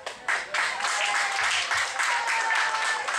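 Audience applause after a panel forum on community life in a protected area, steady dense clapping throughout with a constant room wash, a few louder bursts, no voices over it.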